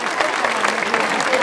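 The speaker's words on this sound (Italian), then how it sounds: "un applauso." Audience applause after a children's song-and-dance performance at a local event, a dense, continuous wash of many hands clapping at close range, fairly loud and steady.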